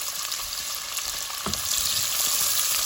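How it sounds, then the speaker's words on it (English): Chopped onion drops into hot oil already crackling with cumin and mustard seeds, a steady close sizzle with a sharper burst around the moment it hits the pan, continuing evenly without talk. "Then adding onion, chopped onion."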